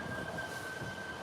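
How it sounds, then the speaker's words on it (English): A train runs right outside a station in New York City, a steady, close rumble of rail noise with a thin sustained wheel squeal over it and no pauses or voices. "I had to listen to this train all night"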